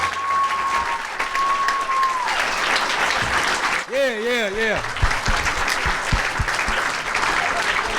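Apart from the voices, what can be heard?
convention audience applause at Friday the 13th panel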